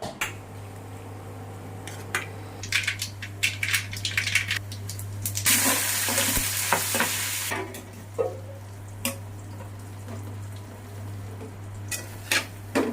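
Food is stirred slowly in a pan with a spoon, giving repeated metallic scrapes and clinks over a low steady hum, with a loud sizzling hiss swelling for several seconds midway.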